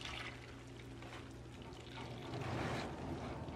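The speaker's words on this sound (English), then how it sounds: "I'm going to pour the rest of this in." Liquid active biochar mixed with sea minerals and alpaca manure being poured into a container, a steady wet splashing and trickling that swells louder near the end, with no talking.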